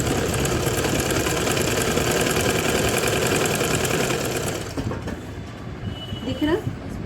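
Domestic sewing machine stitching cloth for a baby's langot, a dense steady mechanical whirr running loud for several seconds before cutting out, leaving quieter handling and faint movement.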